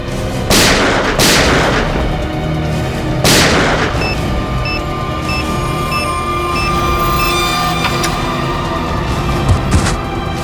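Several loud, sharp blasts ring out near the start, two close together and another a couple of seconds later, over a steady rumbling background with a faint tonal hum.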